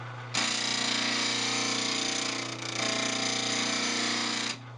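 A woodturning tool is ground on a bench grinder wheel, giving a loud, continuous high whine over a steady motor hum for several seconds before it stops abruptly.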